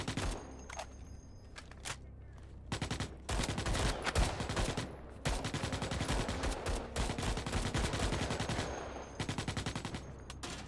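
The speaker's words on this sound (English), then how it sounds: "Everyone's just trying to shoot the gunner from far away." Gunfire in the video game Starship Troopers: dense, rapid automatic bursts crackle almost without pause, several weapons overlapping at fairly close range, with short gaps before the firing resumes.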